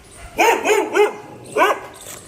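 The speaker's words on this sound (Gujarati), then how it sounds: "જો કૂતરો કારણ વગરનો ભહે" A dog near a village temple barks in a quick burst of three close, loud barks, then one more bark after a short pause, with no talk over it.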